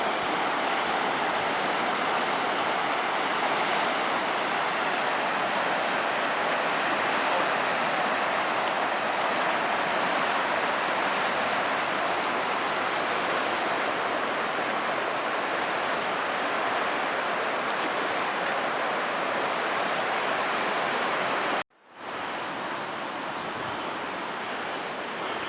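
Floodwater from a swollen creek rushes in a steady, loud, broadband roar with no letup, close by; a brief dropout near the end before the torrent resumes. No voices.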